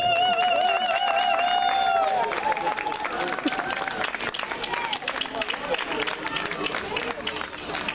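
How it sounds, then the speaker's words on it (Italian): An audience applauds a young performer after an acoustic trio plays, with a sustained musical tone fading out in the first seconds, then many hands clapping amid crowd murmur and voices. "Con un bel applauso Pietro."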